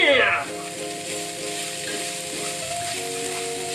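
Ground meat sizzling in a pan, a continuous soft frying hiss heard under steady background music, moderate and close.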